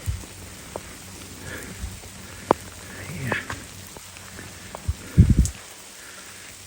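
Steady patter of rain on a surface with scattered drops, a brief word spoken, and a few louder knocks and rustles near the end.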